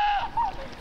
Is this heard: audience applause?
no